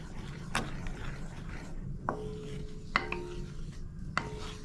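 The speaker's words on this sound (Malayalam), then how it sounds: "നമുക്ക് നന്നായിട്ടൊന്ന് ഇളക്കി കൊടുക്കാം ഇത് കുറുകി വരുന്നവരെ നമ്മളിതിങ്ങനെ ഇളക്കിക്കൊണ്ടേയിരിക്കണം" Ginger candy mixture being stirred in a pan, with a few soft, sparse spoon scrapes and light clinks against the pan over a quiet background.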